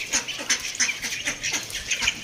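Ducks quack loudly and close, a rapid series of harsh calls overlapping in an irregular chorus.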